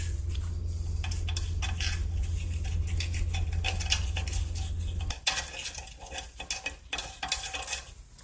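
A large brush scrapes hard crud inside a parts cleaner, making close, rough scratching strokes in an irregular rhythm; a steady low hum runs under the first half, then stops.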